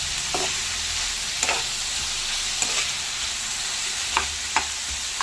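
Bitter gourd sizzling in a hot pan, with occasional clacks of a spatula stirring at irregular intervals, close by and without talk.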